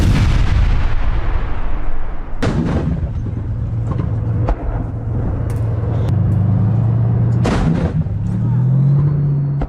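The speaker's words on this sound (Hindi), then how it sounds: "रूस के टैंक ने किया बारूदी प्रहार।" Russian tank fire and explosions in Donetsk, with several loud, sharp blasts rising over a constant heavy rumble, followed by a rising engine-like drone, all close and loud with no talk.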